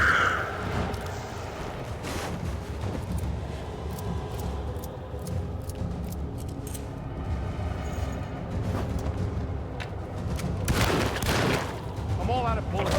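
Repeated gunshots from the survival horror game Alone in the Dark, bursts of fire spread across the clip with loud crackling impacts over a constant rumbling game background, with a speaking voice now and then.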